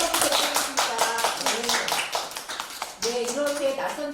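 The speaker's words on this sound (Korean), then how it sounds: "박수 모두 한번 쳐주겠습니다." An audience at a counseling talk show for married couples claps in a quick, close rhythmic patter, with people talking and laughing over the applause.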